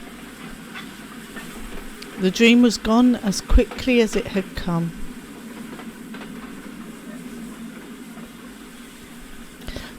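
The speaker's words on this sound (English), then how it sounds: "Oh, we're on a train." In the video game Carnival, a train rides along rails with a low continuous rumble and faint rhythmic clatter throughout, while someone narrates over the middle of the passage.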